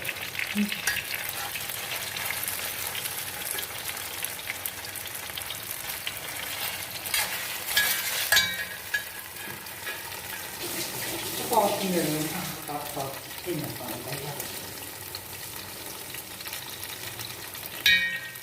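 Tender coconut pieces sauté in ghee for an Onam payasam, making a close, busy sizzle with soft stirring scrapes and clinks across the pan, and a brief muffled voice partway through.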